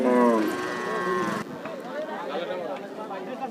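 A cow gives a long, loud moo, followed by busy crowd chatter and voices of people milling around the outdoor Rajshahi city cattle market.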